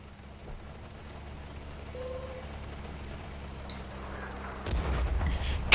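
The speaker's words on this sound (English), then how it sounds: "God damn artillery!" Artillery fire in a tank combat video game: a low steady rumble builds, then a heavier burst of booming impacts lands near the end.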